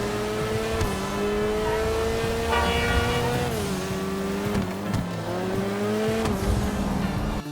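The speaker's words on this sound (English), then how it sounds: "Its small but powerful 4-cylinder gave the Sentinel a commendable lap time, and the sound of an angry beehive" An Übermacht Sentinel with a small 4-cylinder engine races in GTA Online, giving a loud, buzzing, high-revving drone that climbs and drops through gear shifts, steady and close, with no voices.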